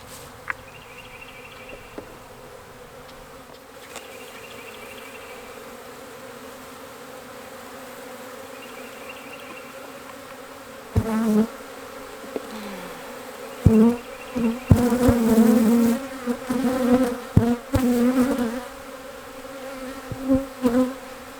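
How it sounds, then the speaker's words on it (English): Dense, steady buzzing of many honeybees at an Apimaye hive being split fills the air continuously, growing louder and busier as individual bees zip close by. "I just cannot believe how many bees there are."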